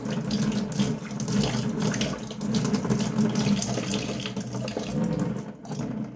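Cold water runs steadily from a bathroom tap into a sink, a continuous close splashing stream that holds for the whole stretch with slight surges in level.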